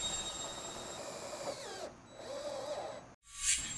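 A power drill whirs as it drives a stitch screw through metal Z trim and endwall flashing on a metal roof. Two short bursts of driving sound close by, then a click as the bit stops.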